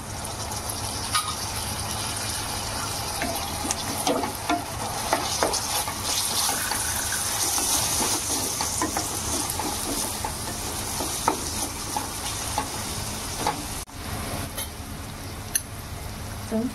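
A small tomato frying with curry leaves in a pan of tempering oil, sustained crackling sizzle with repeated stirring scrapes and clinks across the whole stretch, close and fairly loud, no speech.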